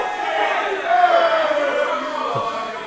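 A wrestling show crowd murmurs and reacts at a steady roar, swelling slightly around the middle, a broad arena din with scattered shouts and no clear speech.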